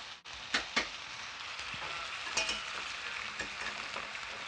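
Butter being whisked into regular flour in a pan, a soft continuous sizzling hiss with a few brief scraping clicks of the whisk near the start and middle, close and steady with no talking.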